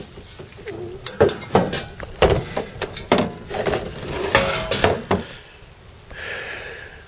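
Metal detecting scoops clink and rattle as they are handled, producing a series of irregular close metallic taps and knocks that fade into a soft rustle at the end.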